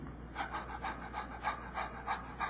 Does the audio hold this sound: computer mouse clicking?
no